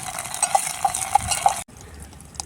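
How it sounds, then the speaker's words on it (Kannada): Onion and ginger garlic paste being stirred while frying in a pan, a spatula scraping in an even rhythm of close clinks before stopping abruptly. "ಶುಂಠಿ ಬೆಳ್ಳುಳ್ಳಿ ಪೇಸ್ಟ್ ಹಸಿ ಸ್ಮೆಲ್ ಹೋಗೋ ಗಂಟ ಮಿಕ್ಸ್ ಮಾಡ್ಕೊಳ್ಳೋಣ."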